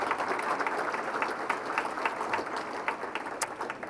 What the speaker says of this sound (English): So those, let's give them a clap.